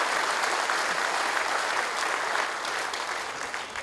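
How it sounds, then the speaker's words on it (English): A crowd at a Fijian government ceremony for micro and small business grant recipients breaks into sustained applause, dense and steady, tapering slightly toward the end. "let's give Munif, Chonim, Chobilisi, Nausori and Nat another big round of applause."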